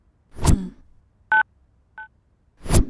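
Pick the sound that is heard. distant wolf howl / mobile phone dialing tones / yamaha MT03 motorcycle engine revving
mobile phone dialing tones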